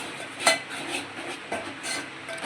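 Masala being stirred into a pot of spicy Satara-style matki rassa, a spoon scraping and clinking against the metal pot in a few irregular strokes over a low cooking hiss.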